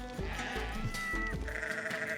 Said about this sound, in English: It's a very big goat right here.